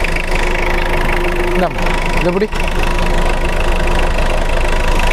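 Engine of a big SUV shown at a used-car shop, running loud and close with a steady rumbling drone and a couple of brief dips in pitch, while someone speaks over it.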